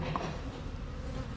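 Honeybees freshly brought back from the wild, fighting en masse inside the hive, make a dense, steady buzzing drone, close and continuous throughout, with no voices.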